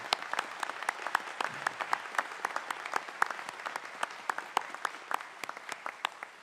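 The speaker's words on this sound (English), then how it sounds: "So I'd love to give everybody a round of applause for their support and help of our students." A smaller group applauds at a commencement ceremony, with distinct, separate handclaps in an uneven rhythm that stay moderately faint and steady throughout, and no talking on top.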